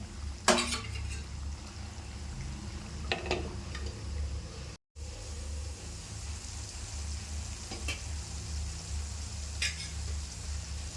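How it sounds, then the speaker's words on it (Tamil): Dried fish curry simmers in a covered pan with a steady low bubbling and faint sizzle, broken by a few scattered clinks and taps of utensils and the lid, with no one talking. "திரும்ப மூடி வச்சிடலாம் இந்த கருவாடு ஒரு ரெண்டு நிமிஷம் நல்லா இதுலேயே வேகட்டும்"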